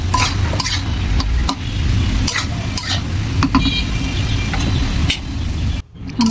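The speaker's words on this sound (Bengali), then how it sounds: "এখন শাকগুলো একটুখানি ভাজা ভাজা করে নিব" Water spinach greens cooked with shrimp fry in a hot pan, a steady close sizzle broken by repeated scraping strokes of a spatula stirring them, with no talking.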